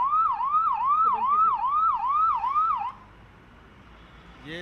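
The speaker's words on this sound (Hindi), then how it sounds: "डोर टू डोर बाकायदा सायरन बजाया जा रहा है" Police patrol vehicle siren wailing in a steady rising-and-falling cycle, loud and close, running for about three seconds and then cutting off, leaving quiet background; no talking.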